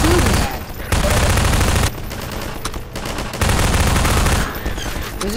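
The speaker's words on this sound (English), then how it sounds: "Why are they shooting at?" Bursts of gunfire in the game Half-Life 2 Episode Two, with dense, loud volleys lasting about a second each and separated by short quieter gaps.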